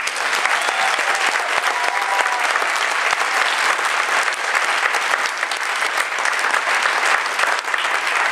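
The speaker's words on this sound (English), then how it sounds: "Please give them one more round of applause." An audience at a beginning band concert gives the young players another round of applause, a dense, steady, loud wash of clapping that carries on for about eight seconds with little speech.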